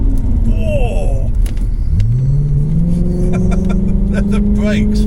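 A Volkswagen Passat B5.5 with a W8 engine revs up, its rising engine pitch climbing and then holding steady as a loud, close rumble, with people talking over it.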